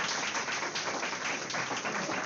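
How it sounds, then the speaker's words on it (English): An audience at an applied mathematics conference claps steadily, a dense wash of many hands at an even level throughout, with no voices over it. "Clap for yourself."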